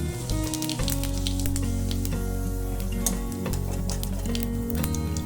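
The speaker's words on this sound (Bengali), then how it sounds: "তো আমি আলু ভাজার তেলটার মধ্যে আমি জিরা কটা দিয়ে দিচ্ছি।" Cumin seeds sizzle in leftover potato-frying oil, a steady crackling hiss with fine popping over a constant low hum, close and fairly loud throughout, no speech.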